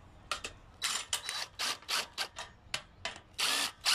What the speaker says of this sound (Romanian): Și acum cu pistolul cu cap de 13, da? Cu tubulară de 13, pentru că piulița este 13, strâng.